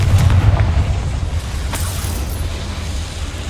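A Confringo spell explosion in the PC game Hogwarts Legacy: a loud, booming blast at the start that rumbles low and fades into a sustained roar over a few seconds, with no voices.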